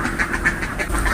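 Ducks quacking on a laying-poultry farm, a quick run of nasal quacks from a flock close by, over steady farmyard noise.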